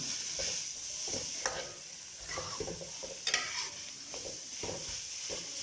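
Samosa vegetable filling cooks over a medium-low flame with a soft, steady sizzle, while stirring scrapes and taps against the pan at irregular intervals. The sound stays fairly faint and close, and nobody talks.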